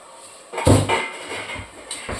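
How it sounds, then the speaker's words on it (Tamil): Vegetables tumble into a hot pan for sautéing in a home kitchen making veg biryani, giving a loud clattering thud followed by scraping and rustling stir sounds, then another knock near the end. "காய்கறிகள்லாம் போட்டு நல்லா வதக்கிட்டோம்."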